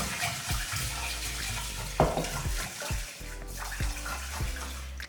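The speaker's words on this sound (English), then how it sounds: "so once you rinse your rice" Rice being rinsed in a pot at home, water swirled and sloshed around the grains in a continuous wet churning with splashy surges.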